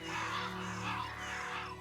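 Crows caw repeatedly in the Pathfinder Kingmaker video game, heard in the Varnhold area. The calls are fairly loud and continuous over a steady droning background, with no talk.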